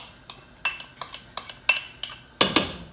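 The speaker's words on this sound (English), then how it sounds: "I'm going to take my cornstarch and half mixture and I'm going to add it in" A spoon or whisk clinks repeatedly against a metal pot as a cornstarch and half-and-half mixture is added and stirred into bubbling chicken and dumplings, a steady series of sharp, close clinks and rattles.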